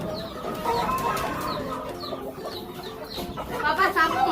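Fighting roosters cluck repeatedly close by in short, rhythmic bursts, with faint voices in the background.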